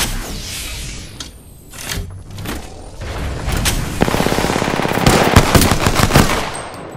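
Rapid bursts of automatic gunfire ring out in an Apex Legends match, loud and close, with dense rattling volleys building through the second half over game sounds.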